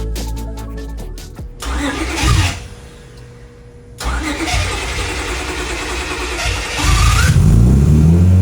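A Honda J-series V6 swapped into an Acura TSX race car cranks and fires loudly, then settles into a rough, throaty idle and revs up near the end.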